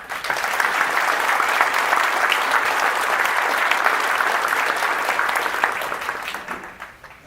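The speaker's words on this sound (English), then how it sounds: "I think she deserves another round of applause." A large audience at a town meeting on the opioid crisis applauds steadily and loudly for about six seconds before tapering off, a dense wash of clapping without talking.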